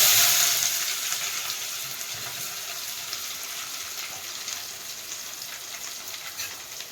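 Chopped onion drops into hot oil already seasoned with cumin seeds, bay leaf and curry leaves, bursting into a loud, steady sizzle that slowly eases over several seconds, with no talking.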